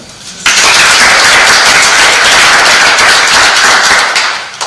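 Applause from an audience at a blockchain innovation café talk, a dense steady clatter of many hands that starts abruptly, holds loud for about four seconds, then tapers off.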